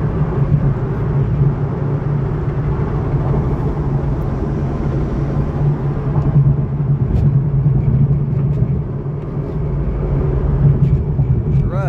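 A Nissan 370Z with a Nisom muffler welded onto its exhaust drives along with a steady, low, continuous exhaust drone and road rumble heard from inside the car, with no speech.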